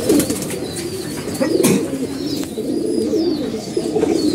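A pet pigeon coos nearby in repeated low rolling calls, continuous and fairly loud, with a brief sharp knock partway through.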